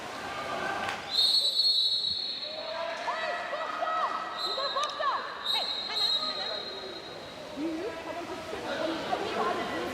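A referee's whistle at a women's field hockey match between Argentina and South Africa cuts through sharp and loud a couple of times over steady crowd chatter, with a commentator talking throughout.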